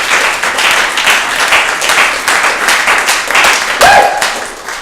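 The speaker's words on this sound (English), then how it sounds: "Let's give a round of applause over here." An audience claps and applauds steadily at a stand-up comedy show, a dense, loud wash of hand claps that carries on without pause.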